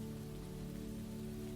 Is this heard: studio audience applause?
no